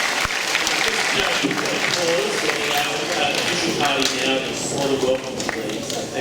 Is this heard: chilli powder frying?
no